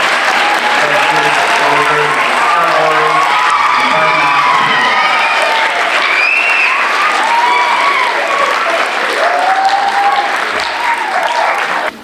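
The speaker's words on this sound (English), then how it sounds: "let's give one big round of applause to all of our" A school audience applauds fifth grade groups at a Shark Tank style presentation, steady loud clapping mixed with cheers and children's whoops, with voices shouting and calling out through the applause.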